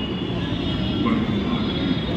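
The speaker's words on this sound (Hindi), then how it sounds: "यहाँ पर वेट कर रहे हैं कि मेट्रो आएगी" A metro train rumbles and hisses into a station, a steady loud roll of wheels and motor with a faint high squeal over the platform noise.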